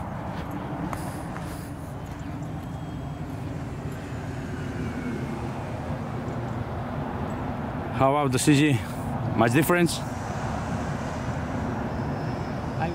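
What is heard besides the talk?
model Vulcan aircraft engine during flight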